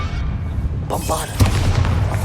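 Bombarda blasting spell going off in the Hogwarts Legacy video game, a deep booming explosion with a sharp burst midway and rumbling low end, preceded by softer magical whooshes.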